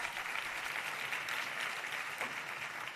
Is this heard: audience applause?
yes